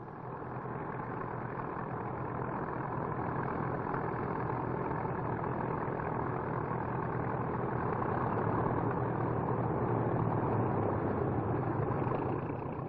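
An aeroplane taxiing on the ground with its engines running gives a steady, continuous low engine drone at moderate level throughout, unbroken by talk.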